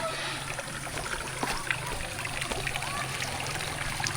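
Mountain stream water trickles and splashes steadily from a pipe along a roadside in the hills between Margalla and Hazara, close and continuous with small irregular splashes.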